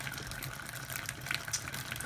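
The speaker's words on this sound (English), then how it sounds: "the running into the cube of the hot water for the Framboise" Hot water gushes into a plastic cube while a raspberry Framboise beer is being homebrewed, a steady, full splashing pour that runs close and unbroken, with no voices.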